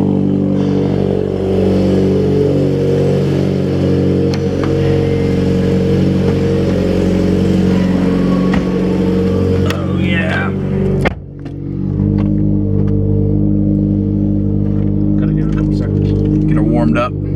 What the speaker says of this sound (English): We're going for a ride in the EVO.